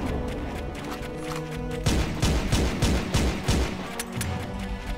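Rapid gunfire from a gun in a SpongeBob video game, starting quietly and then bursting into dense, loud repeated shots with thumping impacts, continuing steadily to the end.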